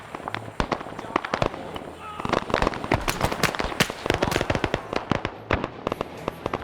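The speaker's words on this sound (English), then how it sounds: "that sounds like an artillery unit firing" Rapid, irregular bursts of gunfire and booming artillery-style shots from the SOG Prairie Fire game fill the clip, loud and dense throughout with many sharp impacts, some overlapping.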